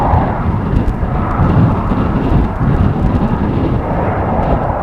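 An airliner at Amsterdam Schiphol Airport, near runway 36L, gives a loud, sustained jet roar that swells and fades slightly, heard alone without speech.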